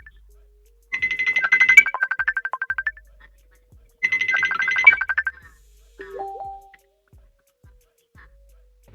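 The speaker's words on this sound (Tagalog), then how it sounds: "Wait lang po may tumawag lang." A phone ringtone plays for an incoming call, two loud bursts of a repeating electronic melody separated by a short pause, followed by a brief lower tone as it is answered or silenced.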